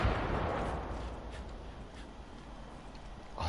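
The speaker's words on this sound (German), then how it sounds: "am explodieren das Zeug." Loud, continuous rumbling blasts with a few sharper bangs cutting through, like heavy explosions and gunfire, in the video game Far Cry 5; no one speaks.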